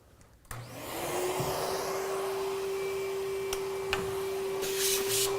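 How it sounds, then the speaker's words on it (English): A vacuum cleaner switches on and runs with a loud, steady whine and airy roar while cleaning a car's interior carpets, with occasional soft bumps and scrapes from the nozzle. "the first process, and really in all interior processes, is going to be to vacuum the car."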